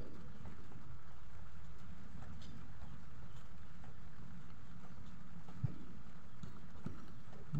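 Rain falls steadily outdoors as a soft, continuous patter, faint and even, with occasional louder drops and no talking.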